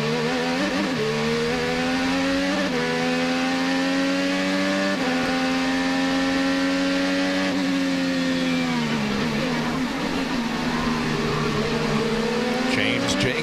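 An IndyCar race car engine at the Long Beach street circuit holds a high, steady pitch with repeated drops as the driver lifts off the throttle early. An announcer's voice is also present.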